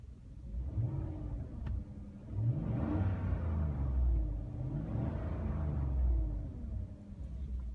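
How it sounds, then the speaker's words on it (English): Inside the cab of a 2014 GMC Sierra with a 6.2L engine and cold air intake, the engine rumbles and revs up twice, rising and falling in swells over a steady low drone. "Gonna do a little rev."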